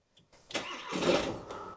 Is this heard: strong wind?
no